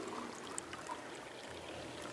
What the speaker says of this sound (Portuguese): nessa mesma proveta, a gente vai colocar mais 50 ml de água